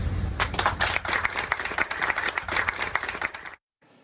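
Lively, dense applause from a group, loud and close, carrying on steadily before cutting off abruptly near the end.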